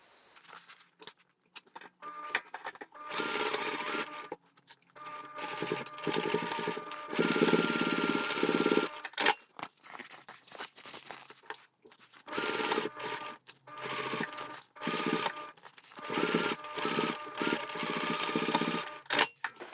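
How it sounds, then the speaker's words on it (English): A sewing machine stitches both corners of a fabric piece at a 1 centimeter seam allowance, its fast mechanical whir running in several bursts separated by short pauses, close and fairly loud with no talking. "We're going to stitch both corners using 1 centimeter seam allowance."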